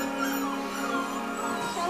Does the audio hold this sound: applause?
no